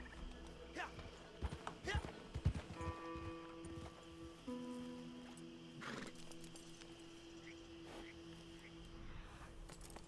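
Horse hooves clip-clop steadily in Red Dead Redemption 2 over a continuous outdoor ambience, with someone talking over the game sounds.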